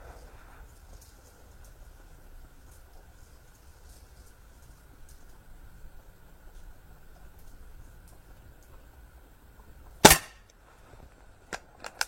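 A single sharp air rifle shot fired at a paper target on a 10-metre range, a short loud crack near the end of an otherwise quiet stretch, followed by a couple of faint small clicks.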